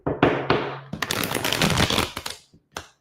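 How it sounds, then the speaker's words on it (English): Playing cards are shuffled by hand during a tarot reading, with several quick riffling bursts and a final tap, close and crisp. "I got to shuffle again."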